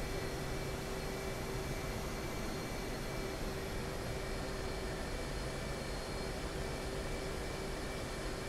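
F/A-18C Hornet jet in DCS World sitting on an aircraft carrier deck, a steady, loud broadband engine roar with a constant whine, unchanging throughout with no voices.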